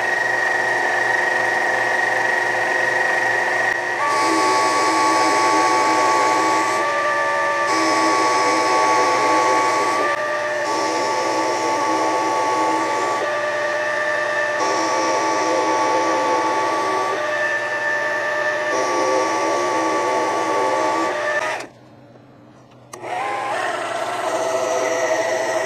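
A mini lathe turns a metal part down to size with a continuous motor whine and a cutting hiss. The cutting sound shifts in short sections and stops briefly near the end before the machine resumes, with no speech.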